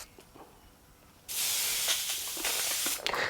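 An airbrush sprays paint onto a driver's helmet, with a faint hiss at first and then a loud, steady spray that holds for about two seconds and sputters briefly near the end.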